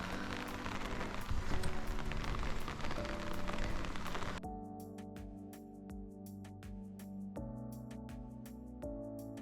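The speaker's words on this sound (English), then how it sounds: "this is my first rain on the GDT" Rain falling along the Great Divide Trail makes a dense, steady patter of drops that later turns into sharper, separate taps over a lower, more tonal background.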